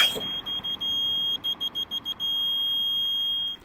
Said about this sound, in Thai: ไฟหน้าไฟหลังแถมมีเสียงแจ้น่ารักน่ารักแบบนี้ด้วย